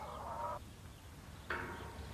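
Ducks on a farm quack in two short bursts separated by a brief pause, moderately near over a low background rumble, with no talk.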